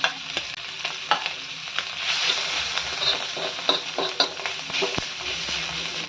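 Roasted besan thecha sautés in a pan with a little oil and a pinch of hing, giving a soft sizzle broken by repeated spatula scrapes and light knocks as the mixture is stirred.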